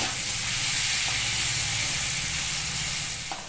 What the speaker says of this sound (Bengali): সেজন্য এইভাবে আমি চিংড়ি মাছটা ভেজে নিচ্ছি